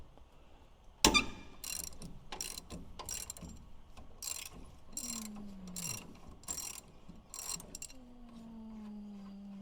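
Hand ratchet clicking on the lower shock mount bolt of a Suzuki DB52/DA63 during a lift install, a sharp initial clank then a series of quick rhythmic ratcheting bursts, close and clear, with faint squeaks between.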